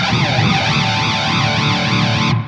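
Distorted electric guitar through a Donner Arena 2000 multi-effects processor with a sweeping flanger effect, its tone whooshing up and down in steady waves as a sustained chord rings out loudly.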